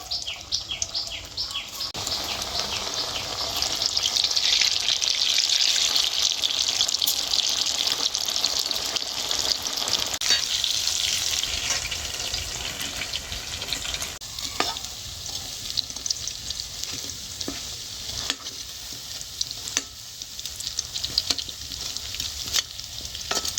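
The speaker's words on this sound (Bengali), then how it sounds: "এই যে পিঠেগুলো ভেজে নিচ্ছি" Moong puli pitha dumplings frying in hot oil, a loud continuous close sizzle and bubbling with occasional stirring clicks, the sizzle easing slightly toward the end.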